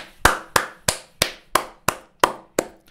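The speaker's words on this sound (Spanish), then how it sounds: "Un aplauso." A single person claps nine times in an even, steady rhythm, each clap sharp and close, with no voices in between.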